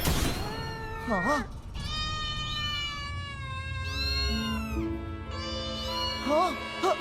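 A chorus of cartoon cats meowing, with several overlapping drawn-out, rising and falling meows; the meows come from voices imitating cats, sung over a melody that runs through the whole clip.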